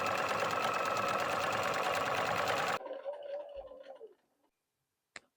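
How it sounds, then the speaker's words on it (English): Sewing machine stitching a fabric pocket, a loud rapid mechanical whir for almost three seconds that stops abruptly, followed by a short fading hum and a small click. "I'm actually going to, on my sewing machine, surprise, stitch all the way down,"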